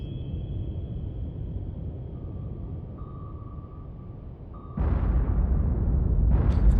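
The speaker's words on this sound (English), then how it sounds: "I'm gonna have to give him a torpedo" A torpedo launches from a submarine in the naval warfare game Cold Waters, a sudden loud whoosh and rumbling burst that cuts in over a low steady hum and sonar tones, then swells further near the end.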